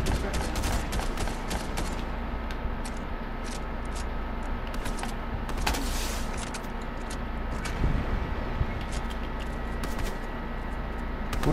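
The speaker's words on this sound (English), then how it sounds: "Who the hell is that shooting at us?" Rapid video game gunfire in Fortnite Zero Build, dense crackling shots coming in steady bursts over a constant noisy background, with players faintly talking at points.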